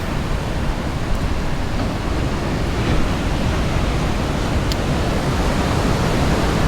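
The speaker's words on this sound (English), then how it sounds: "Let's call it the mighty ocean." Big ocean waves rolling into Keawaʻula bay on O‘ahu, a loud, continuous broadband roar of surf with no distinct breaks, heard close and alone.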